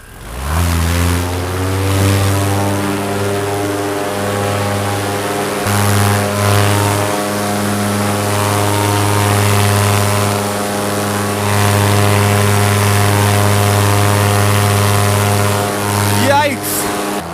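Paramotor engine and propeller roar steadily and loudly through a short-field takeoff toward a city downtown, the engine note holding strong with slight rises in pitch, running continuously from start to finish with no talk.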